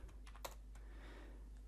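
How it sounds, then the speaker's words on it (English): A single key press on a computer keyboard during digital texturing work, a faint short click followed by a few lighter taps over a steady low hum, with no talk. "I'm going to press tab on the keyboard and add a tiled texture."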